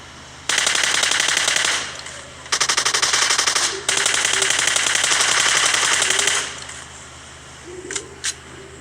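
Automatic gunfire in the PUBG video game sprays a buggy and bursts one of its tyres, heard as three long, loud, rapid bursts of shots with brief gaps, followed by a couple of faint isolated shots.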